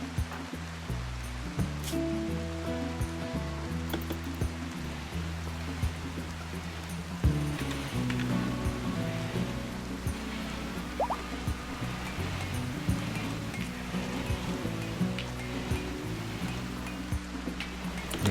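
Toxic rain falls in the RimWorld video game as a continuous, even hiss of rainfall with a low rumble underneath, steady and unbroken for the whole stretch, with no voices.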